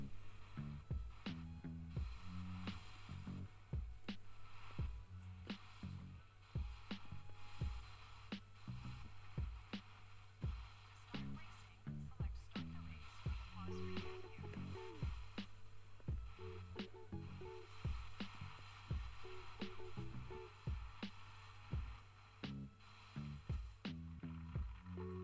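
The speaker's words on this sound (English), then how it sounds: "Here we have Wave Race for the Nintendo 64." Wave Race for the Nintendo 64 playing on an Anbernic RG40XX-H handheld: a steady game soundtrack with a pulsing bass beat and bright repeated musical hits, continuous and moderately loud throughout, with no talking.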